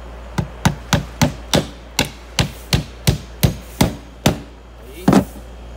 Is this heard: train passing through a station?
no